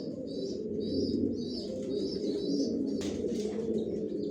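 Johnson line racing pigeons coo steadily inside a loft, a low continuous burbling from several birds close by, with faint chirps above and a brief rustle near the end.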